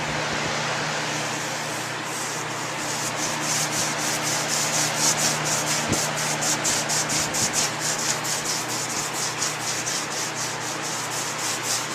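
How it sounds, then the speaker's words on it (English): A broad 4-inch brush spreads thick glop across a large green terrain board in rapid, regular rasping strokes that stay loud and close throughout, with no talk. "For this task, I'm going to use a 4-inch brush"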